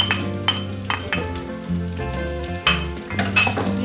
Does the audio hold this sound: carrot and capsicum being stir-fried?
yes